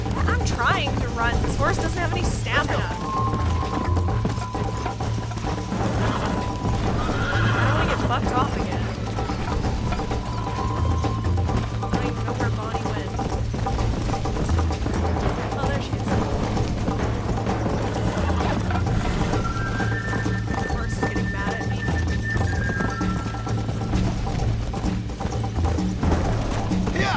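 Rapid hoofbeats of a galloping horse drum steadily throughout a race in the Red Dead Redemption video game, with a couple of neighs and whinnies breaking through and game music or effects running underneath.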